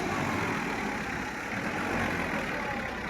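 A Massey Ferguson 1035 tractor bogged down in a field with a load of grass labours under heavy throttle, a steady, loud, low engine roar that holds without a break throughout.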